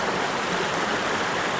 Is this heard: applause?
no